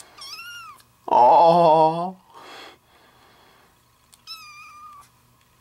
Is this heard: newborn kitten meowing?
yes